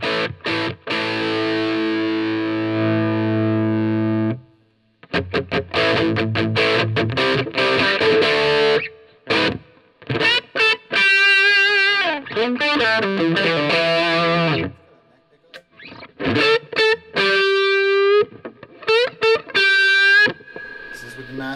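An electric guitar plays through the ultra gain channel of a Marshall DSL40CR amp with the master volumes below maximum, giving heavily distorted, loud riffs of chugging chords and single-note runs with short pauses.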